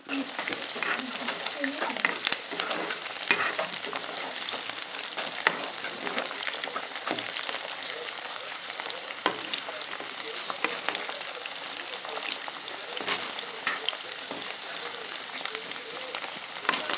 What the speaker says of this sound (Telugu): దొండకాయలు అయితే బాగా వేగుతున్నాయి ఫ్రెండ్స్